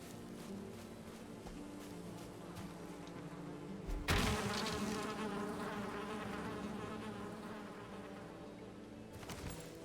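Bees buzzing in the video game Valheim, a steady insect drone over soft in-game ambience that swells sharply louder partway through and stays close and dense to the end.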